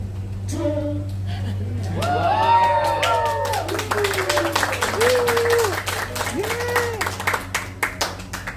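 An outdoor crowd at Everglades Holiday Park applauds and cheers, with whoops and shouted voices over a bed of clapping that swells and lasts several seconds, alongside a steady background hum.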